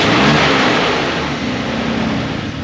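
A BMW biturbo six-cylinder engine idles steadily while warming up from cold, a smooth continuous low drone that stays close and fairly loud for the whole stretch with no voices over it.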